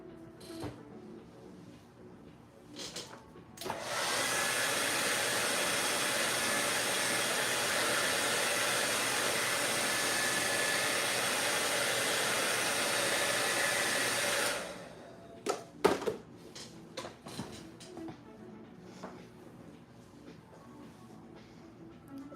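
A hair dryer runs steadily for about eleven seconds to dry paint during a painting session, a loud continuous whoosh that starts abruptly and cuts off, followed by scattered small clatters and handling sounds.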